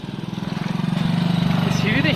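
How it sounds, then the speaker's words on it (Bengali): A motorbike engine labours up stone stairs on the Parasnath hill trekking route in Jharkhand, its steady pulsing putter rising and staying loud and close, while a voice speaks over it near the end. "এই রাস্তাতে বাইক উঠছে দেখো, এই সিঁড়িতে বাইক তুলছে"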